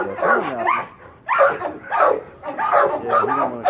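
Dog barking in a shelter kennel block, repeated loud barks and yips in irregular bursts, close by, with some whimpering between them.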